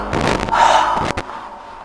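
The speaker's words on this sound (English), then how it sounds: "a terrifying deep breathing sound is heard behind her" A deep, heavy breathing sound comes from somewhere behind a woman left chained alone in a frightening ghost encounter. It plays as a couple of long, breathy surges, close and fairly loud, then fades out.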